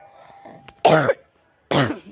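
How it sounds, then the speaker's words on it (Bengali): Two harsh, throaty coughs spaced nearly a second apart, close to the listener, over faint background hum. "এত পরিমাণ ঠান্ডা লেগে গেছে কাশি হয়ে যাচ্ছে"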